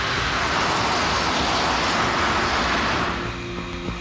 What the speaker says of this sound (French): L'enregistreur de données de vol indique qu'il met les gaz.